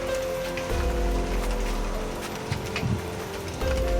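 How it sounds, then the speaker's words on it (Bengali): Rain falls steadily outside, a dense, even patter with a few soft low thumps, and no voices. "বাইরে বৃষ্টি হচ্ছে"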